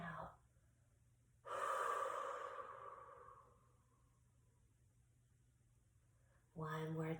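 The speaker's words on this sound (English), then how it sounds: "Breathe in and out." Slow breathing exercise with one long audible inhale-exhale rush of breath, close and soft, followed by a quiet pause and the start of another breath.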